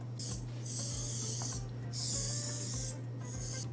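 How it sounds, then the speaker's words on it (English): Two short hissing spray bursts from an aerosol can of release spray onto a baking mold, close and fairly quiet, over a steady low background hum. "I have to slightly spray it in order to release the ring more easily"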